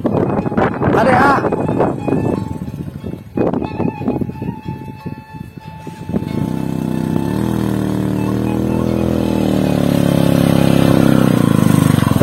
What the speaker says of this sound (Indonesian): Kita lihat motor ini mampu nanjak atau enggak ya.